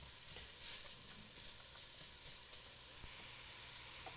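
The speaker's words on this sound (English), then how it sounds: "The onions and garlic are going." Onions and garlic sizzle steadily in olive oil over medium to medium-high heat, a continuous close crackling hiss with small pops, no voices.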